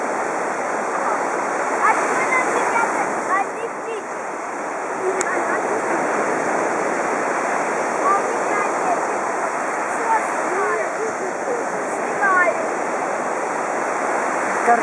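Steady wash of sea surf on an empty beach, broad hissing waves rolling in without a break, close and fairly loud with no talk.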